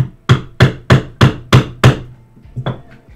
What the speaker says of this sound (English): I actually have a small anvil that overhangs over here that I can use for a rivet setter.